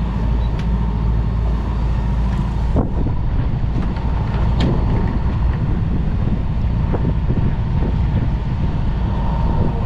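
A sailboat motor sailing offshore with its engine at lowered RPM gives a steady low drone under constant wind buffeting on the microphone, loud and unbroken with no talk.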